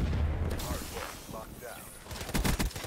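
Gunfire in Call of Duty Black Ops 3, with sharp bursts at the start and a denser run of shots near the end, mixed with game noise and a voice talking.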